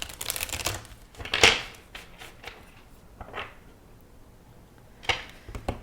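Quiet shuffling of an Animal Spirit oracle card deck, with brief papery riffles and soft flicks spaced irregularly against a hushed background, no talking.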